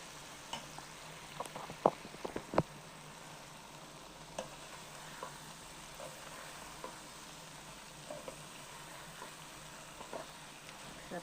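Paneer pieces sizzle steadily in a pan of curry as they are mixed in, with a low continuous frying hiss and a few sharp clicks of the spoon against the pan, close and fairly quiet.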